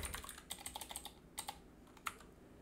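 Keys on a computer keyboard tapped in quick irregular bursts while an email address is typed, close and fairly quiet, with short pauses between clusters of keystrokes.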